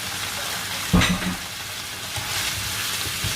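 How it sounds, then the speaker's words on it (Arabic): A spoonful of flour hits a little hot oil in a pan with a brief thud, then a steady close sizzle and hiss continues under faint stirring scrapes, with no talk. "شايفين اللي ظاهر معايا شويه الزيت اللي انا حطيتها، هحط لها بالظبط معلقه دقيق واحده"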